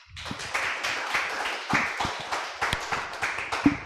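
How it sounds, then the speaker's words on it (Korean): A crowd claps steadily at an engineering leadership forum lecture, a dense patter of many hands with a few sharper, louder claps standing out, fairly close. "다시 한번 박수 부탁드리겠습니다."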